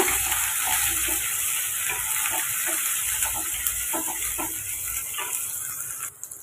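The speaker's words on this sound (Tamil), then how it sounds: "ஒரு மிளகாய், கொஞ்சமாக வெங்காயம் சேர்த்துட்டு இப்போ அதை வதக்கி விட்டுருங்க" Chilli and onion sautéing in a pan for tomato rice, a steady broadband sizzle with scattered soft stirring scrapes, close and continuous, no voices.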